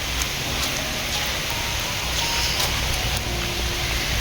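Steady rain pours over green forest beside the North Bengal rail line, heard from aboard the Kanchankanya Express as a dense, even hiss of drops that holds throughout.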